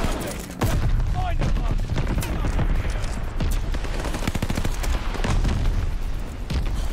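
In a video game, a DP27 machine gun fires in rapid bursts of loud, sharp shots, with scattered booms and a voice talking over the gunfire.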